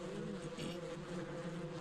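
Bees in Ranch Simulator, a dense steady buzzing close by with no pauses, filling the short moment alone.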